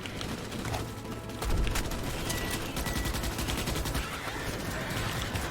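Rapid automatic gunfire rattles in Starship Troopers: Extermination, with a loud, sustained volley of shots growing denser after the first second, with battle noise underneath.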